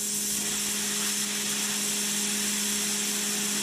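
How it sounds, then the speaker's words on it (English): A constant roaring hiss of high-pressure water blasting from snow guns on a ski slope, with a steady mechanical hum beneath it, loud and unbroken. "there's millions of gallons of water coming through these snow guns right now"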